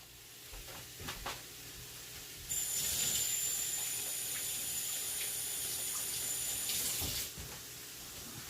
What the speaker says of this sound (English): put some water in there. That's going to kind of deglaze the pan.